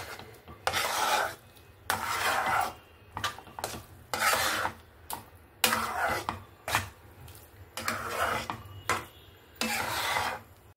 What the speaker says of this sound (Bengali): জলটা দিয়ে ভালো করে নাড়াচাড়া করে নিচ্ছি।